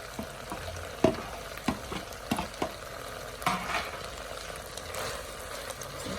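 Green parts of spring onions tossed into a hot pan of sizzling stir-fried beef. Soft, steady frying hiss sits under a series of sharp, close spatula clacks and scrapes against the pan.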